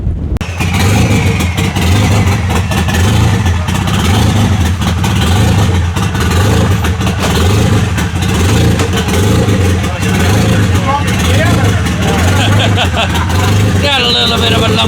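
A car engine idles roughly and lumpily at a radar run event. Its steady, loud rumble pulses unevenly, with voices talking over it the whole time.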